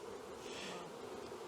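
Honey bees swarm over hive frames during queen rearing, giving a dense, steady buzz that holds evenly from start to finish with no voices.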